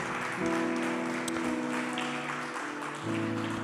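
Congregation clapping at a church service, a moderate crowd applause with sustained musical tones from an instrument running underneath, steady throughout.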